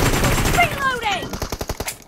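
Rapid bursts of gunfire in the mobile battle royale game BGMI, a quick run of sharp evenly spaced shots toward the end after a sweeping whoosh, with game voice audio mixed in.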